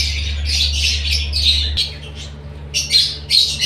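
Birds calling near a nest holding eggs and chicks, loud bursts of squawks and chirps coming in clusters over a low steady hum, with no voices.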